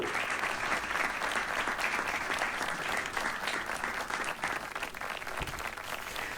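Dense audience applause after a Hindi poetry recitation, sustained and fairly loud across several seconds with scattered sharper claps standing out.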